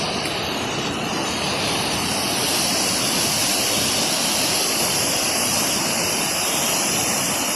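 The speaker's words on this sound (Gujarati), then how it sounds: "અહીંયા ડુંગરમાંથી પાણી વયું આવે જોરદાર રીતે" Kempty Falls near Mussoorie, a big mountain waterfall, roars as a loud, dense, unbroken rush of falling water that fills the whole stretch at close range.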